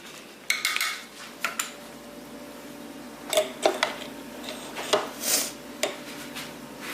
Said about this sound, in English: So I just put it in there and stir it, and it melts and just gets all through there.